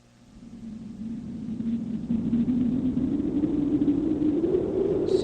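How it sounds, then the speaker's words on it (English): A storm sound effect swells from near silence into a sustained low rumble that builds over the first two seconds and then holds steady and loud, with a faint crackle near the end. "Sounds like a storm."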